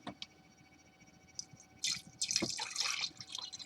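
Water pours into an old beer glass for a homemade candle, starting with a few faint drips and building to a brief gurgling splash close by, with no voices.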